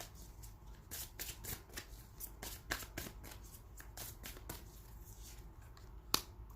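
Oracle cards being shuffled close by, a quick run of soft riffling slaps repeating steadily, with a single sharper snap near the end.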